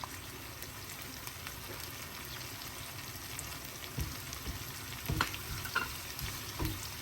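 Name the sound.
onion and whole chilies sizzling in oil for tempering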